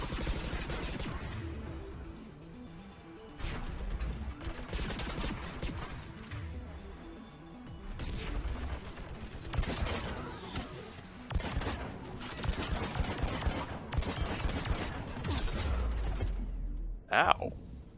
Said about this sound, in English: Mounted turret.